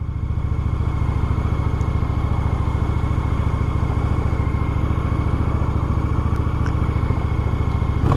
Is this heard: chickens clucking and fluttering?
no